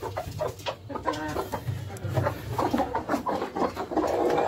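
Hens clucking around feed mixed with turmeric: a close, busy chorus of short repeated clucks and soft calls in an irregular rhythm, fairly loud with no talk.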